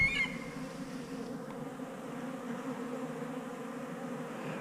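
Bee buzzing in a video game, a steady, close, droning hum that continues evenly without pause.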